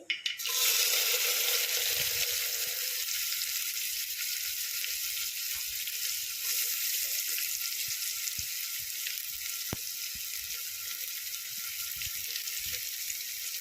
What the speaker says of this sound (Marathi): हे छान मस्त फ्राय झाल्यानंतर यात मी बारीक चिरलेला कांदा घालते आहे